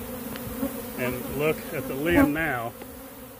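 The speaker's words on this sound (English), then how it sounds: "Look at the line of bees right there fanning on the far end here." Honeybees fanning in a line at the far end of a swarm attractor on a tree limb, a steady droning buzz that rises and falls while someone talks over it.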